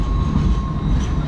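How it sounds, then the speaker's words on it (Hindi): Trains roll past near Cockatoo Island in Sydney. A steady, fairly loud rumble of rail cars carries a faint high squeal over it, with no voices. "beautiful trains"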